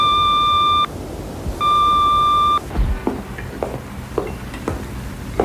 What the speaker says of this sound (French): Parlez bien après le bip sonore